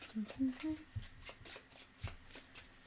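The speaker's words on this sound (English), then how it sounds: "so I'm shuffling 1 monster into the deck" A deck of board game cards is shuffled with a run of riffling, flicking bursts at close range, mixed with small handling noises.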